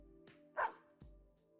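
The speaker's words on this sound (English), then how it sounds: "The dog barks." A dog in the Persona 4 Arena Ultimax game gives a few faint, short barks, with one sharper yelp in the middle, over a quiet low game hum.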